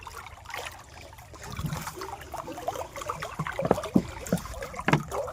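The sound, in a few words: canal water flowing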